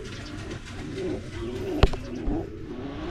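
Pigeons coo softly and repeatedly inside a pigeon loft, low rolling calls over a steady background hum, with one sharp knock partway through.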